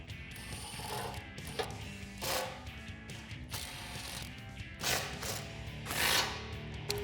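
A hand ratchet fitted with an 18mm socket clicks in repeated bursts while tightening bolts on a Jeep Wrangler JL rear bumper, the rapid pawl chatter starting and stopping between strokes.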